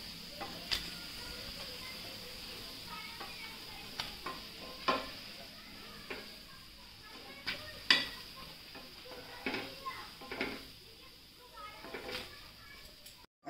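Stuffed bread snacks frying in a pan with a steady low sizzle, broken by occasional clicks and soft taps of utensils against the pan.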